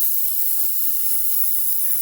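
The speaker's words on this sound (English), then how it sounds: "I reduce my air pressure and start spraying yellow color" An airbrush sprays yellow candy paint onto a mini hood, giving a steady, close, even hiss of air that carries through the whole clip without a break.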